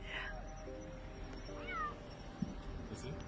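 Thin, plaintive meows from a little kitten tucked in bushes come a few times at moderate distance over a quiet outdoor hiss, with a brief sharp knock partway through.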